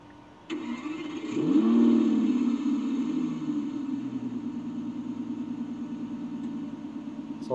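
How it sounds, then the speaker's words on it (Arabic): A synthetic sports car engine sound plays from the front-mounted external speaker of a 2024 all-electric Zeekr X: an abrupt start, a rising rev, then a steady rumbling idle that continues to the end. "صوت سيارة رياضية"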